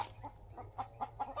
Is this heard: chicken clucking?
yes